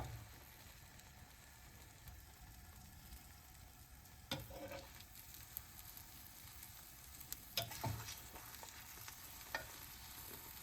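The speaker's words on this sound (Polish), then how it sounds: "Jak widzimy, że jajka już się prawie podpiekają tu na krawędziach e, patelni, to ja lekko przesuwam." Eggs for an omelette cooking in a frying pan, a soft continuous sizzle with a few scraping pushes of a utensil, close and quiet.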